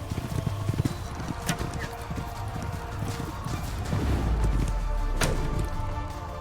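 Horse archers gallop in the Age of Empires IV video game, a Moscow cavalry unit. Busy hoofbeat clatter runs throughout, with scattered sharp knocks and a low rumble rising toward the end.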